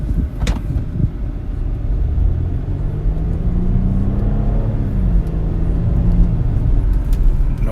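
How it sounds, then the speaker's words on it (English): A car drives slowly down a dead-end residential street with the air conditioner running, a steady low engine rumble and road noise continuing throughout, with a brief rising engine note midway. "I'll drive to the end of the street with the air conditioner on"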